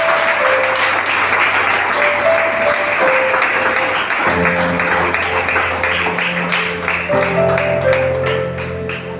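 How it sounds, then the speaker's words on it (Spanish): A church congregation applauds steadily throughout, a dense wash of clapping with music or organ tones sustained underneath. "Denle un aplauso al Señor."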